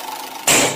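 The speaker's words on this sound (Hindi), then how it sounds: "रिक्शा" A rickshaw engine bursts in abruptly, loud and close, with a harsh idling roar that starts suddenly midway through the brief moment and holds steady to the end.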